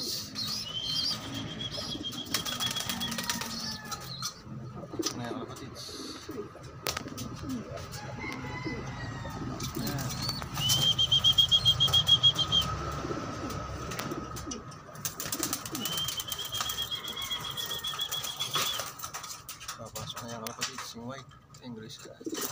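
Pigeons at a loft cooing in soft repeated calls, with bursts of wing flapping and a louder flurry partway through, while someone talks over them for much of the time.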